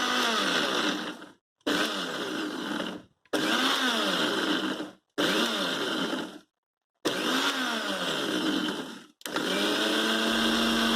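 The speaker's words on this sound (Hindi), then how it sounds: "अनियन डालने के बाद लिड प्रॉपरली बंद करें और फिर से इसे बेस यूनिट के ऊपर फिट करके फिर से ग्राइंड" A Preethi Blue Leaf Diamond mixer-grinder grinding onions in its jar, running in five loud bursts of a few seconds each with short silent pauses between, the motor pitch sagging and recovering within each run.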